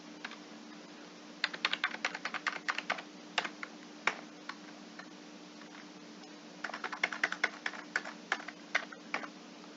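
Rapid typing on a computer keyboard, close and crisp, two bursts of quick key clicks with a pause between them, over a steady low electrical hum and no talk.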